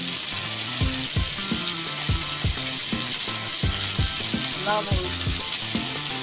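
Fish frying in a pan with green chili, turmeric and salt, sizzling steadily while being stirred, with repeated scraping knocks of the utensil and a voice speaking briefly over it.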